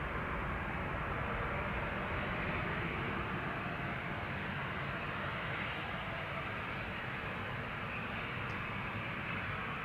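Narrow-body airliners departing in sunshine at Amsterdam Schiphol Airport, a steady broad jet engine roar that holds at an even, fairly loud level throughout, without voices.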